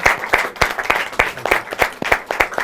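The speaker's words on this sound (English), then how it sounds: "a big round of applause to everyone who made it happen" Audience round of applause at a book talk, loud and close, with distinct strong claps in a rhythmic pattern over a continuous crowd clapping wash.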